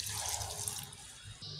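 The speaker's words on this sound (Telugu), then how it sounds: "వాటర్ వేస్తున్నాను." Water poured into a pot of fried tomatoes, chicken and soaked rice for chicken biryani, a steady close splashing pour that tapers off near the end.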